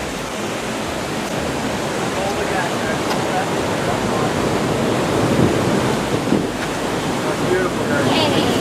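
Niagara Falls roars about 300 meters away as a dense, constant wash of falling water mixed with wind buffeting the microphone, loud and unbroken, with faint voices nearby.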